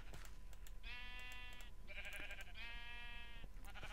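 Minecraft sheep bleat three times in a row, each a synthetic wavering baa of about a second, over faint clicking game sounds and a low background hum.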